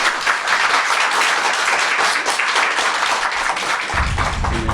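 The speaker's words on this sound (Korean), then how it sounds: "박수로 부탁드립니다." A studio audience on a Korean talk show applauds loudly and steadily to welcome a guest, a dense close clapping that fades near the end as a voice begins.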